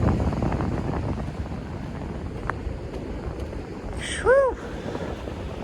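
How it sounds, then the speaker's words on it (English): Winter wind gusts buffet the microphone along the Outer Banks coast of North Carolina ahead of a storm, a constant rushing roar with a brief exhaled breath near the end. "As I walk the other way, the wind has shifted on me."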